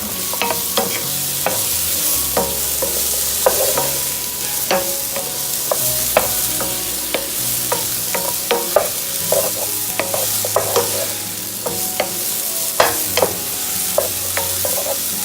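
Mushrooms sautéing in a pan for gluten-free Tuscan chicken mac and cheese, with a steady sizzle and repeated sharp clicks of a utensil stirring against the pan, close and continuous throughout.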